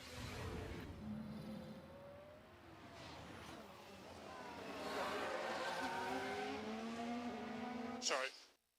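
An F1 race car spins and skids in F1 Manager 2024, with tire squeal and engine whine rising and sliding over several seconds and a voice talking underneath before a sharp cut.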